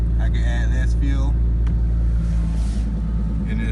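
A Toyota 2JZ engine in an SC300 running rich on E85 fuel rumbles steadily at close range. A brief voice cuts in over the deep engine drone near the start.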